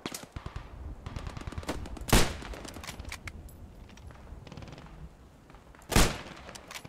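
Sniper rifle shots in a video game: two sharp, loud reports about four seconds apart, the first near two seconds and the second near six, over a steady bed of game noise and other gunfire.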